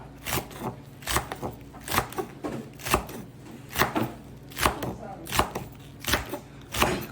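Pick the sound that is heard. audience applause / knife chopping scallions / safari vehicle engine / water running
knife chopping scallions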